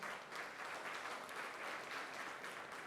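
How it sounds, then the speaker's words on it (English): An audience at a business innovation awards ceremony claps steadily, a dense, even wash of applause from many hands, heard at moderate distance with no voices over it. "a big round of applause for Mr."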